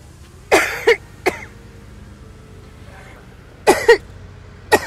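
Cough from a woman in Magaluf, Spain, sounding as two harsh paired bursts close to the mic, then a single short cough, a quiet pause, another double cough and a final brief one over faint room background.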